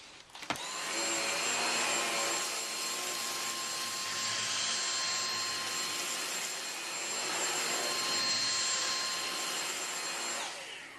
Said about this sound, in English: Now we'll test the vacuum at edge cleaning